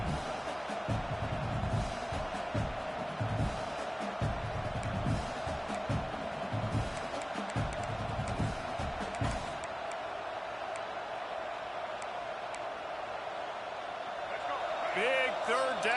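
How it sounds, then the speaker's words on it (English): Stadium crowd at a college football game between Virginia Tech and Michigan, a broad steady roar of cheering swelling during a big third down in the red zone, heard under a commentator's play-by-play that fades near the end. "Big third down in the red zone, and this crowd is getting behind this defense"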